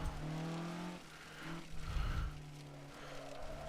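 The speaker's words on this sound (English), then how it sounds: "I love the sound of the gravel bouncing off the invisible fenders" Gravel pattering and rattling against the underside of a race car in a racing sim as it runs through a gravel trap, under a steady droning engine note that shifts pitch.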